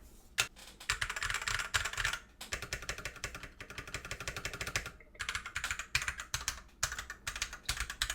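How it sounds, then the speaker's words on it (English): Rapid, continuous clacking of keys on a CIY X77 TKL mechanical keyboard, dense bursts of typing with short pauses between runs, close and crisp. "Sounds kind of like a stock keyboard with halfway decent stabilizers"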